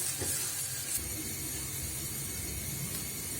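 Onion, garlic and chili frying in a pan for lentil dal, giving a steady, close sizzling hiss that runs unbroken throughout with no voices.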